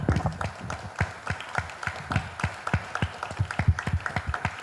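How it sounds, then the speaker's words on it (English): A crowd at a conference panel claps in a steady patter of many overlapping hand claps, moderately loud and close, continuing without a break. "let's give another round of applause to this wonderful panel"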